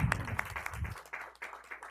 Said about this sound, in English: We could give them a bigger round of applause.